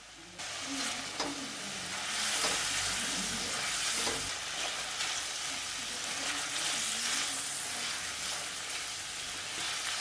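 Prawn and potato curry masala is sautéed in a pan, a moderate steady sizzle with repeated scraping and stirring strokes throughout.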